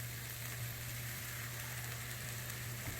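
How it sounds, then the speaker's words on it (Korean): Glass noodles stir-fried in a wok with water added for spicy japchae give a steady, close, even sizzle throughout, with a constant low hum underneath and no talking. "당면을 먼저 볶으면서 물을 넣고 익혀주는데요"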